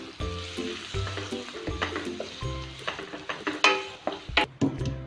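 Slit green chilies and a small onion sizzle and fry in a pan, with steady crackling, a few stirring scrapes and light clinks of the pan, close and moderately quiet, no talking.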